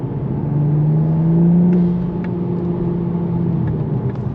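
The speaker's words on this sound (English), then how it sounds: "you can definitely hear turbo noises. So do a third gear pull." A manual Toyota Supra MkV pulls hard in third gear, its engine droning steadily and rising in pitch with faint turbo whistles and flutter on top, loud and close throughout.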